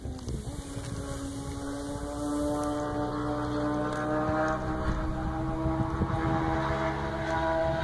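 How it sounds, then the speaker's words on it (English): A steady engine drone with a rising-pitched whine grows louder as a motorcycle passes along a road nearby, with wind noise throughout. "Motorcycle man going down the road."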